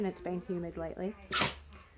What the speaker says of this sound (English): that's a dog sneezing